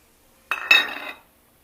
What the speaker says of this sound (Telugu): సేమియా వేసుకొని బాగా కలదిప్పుతూ ఉండండి.